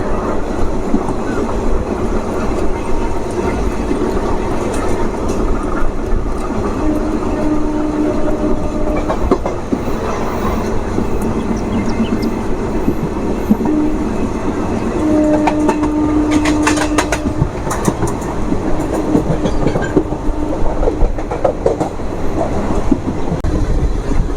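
The Howrah Kaviguru Express, train 13028, runs steadily on rails past skipped stations, with a loud continuous rumble and rattling wheel noise throughout, brief whistle-like tones near the middle and a burst of clatter later.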